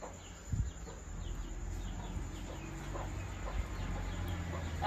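A hen wanders inside a house at night, giving soft, faint clucks scattered over a quiet room background.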